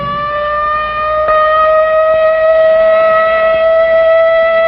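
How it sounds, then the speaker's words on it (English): A civil defense air raid siren wails in a practice drill, one loud sustained tone holding steady throughout, alone and near. "But tomorrow, this siren may mean the real thing."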